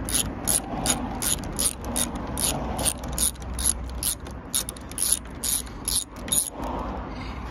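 A ratchet clicks repeatedly while undoing T30 Torx bolts on the roof rack of a three-door Land Rover Freelander 1, with short bursts of rapid pawl clicking and brief pauses between strokes, close by.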